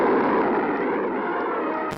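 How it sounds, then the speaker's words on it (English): Honest John missile launched in a 1961 newsreel: a loud, sustained roaring blast that holds steady for about two seconds before cutting off abruptly, heard alone with no talk. "Now, Honest John missiles add to NATO's striking power."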